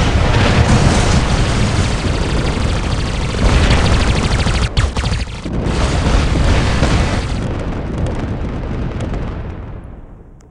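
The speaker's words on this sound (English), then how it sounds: "That's just me shooting at him." Repeated gunfire from the player's robot in the War Robots game, booming and crackling loudly and almost continuously, with a brief dip partway through before the barrage resumes and then fades slightly.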